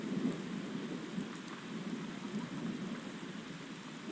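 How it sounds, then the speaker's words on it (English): Steady rain falls over low rolling thunder in Skyrim, a constant wash of drops with a dull rumble underneath. "Wait out this rain."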